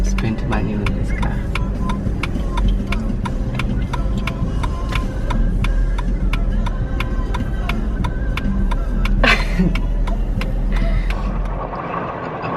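A family car drives along a rough road with a loud, continuous engine rumble and frequent rattling knocks from the bumpy ride, and voices talk over it.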